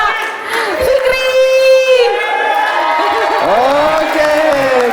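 Wedding guests cheer and shout enthusiastically as a winner is announced, a loud crowd roar with whoops and rising voices, applause mixed faintly beneath the cheering.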